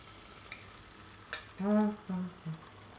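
An omelette frying in a pan for a croque monsieur gives a low, steady sizzle close by, broken near the end by a few short tonal hums.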